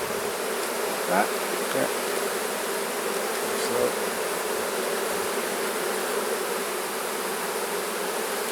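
Honey bees swarm around an opened, massive hive during a split, a dense continuous buzz filling the air close by, with a person speaking briefly over it.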